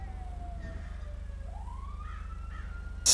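Police car siren in GTA V wails faintly in the distance, a steady rising and falling tone over low rumbling game ambience, ending in a sudden loud burst.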